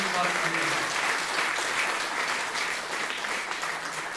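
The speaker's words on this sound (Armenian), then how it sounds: "եկեք բարձր ծափահարենք Էմիլին" Audience at a school concert applauds steadily, a dense, even wash of clapping that holds at the same level for the whole stretch, with no voices rising above it.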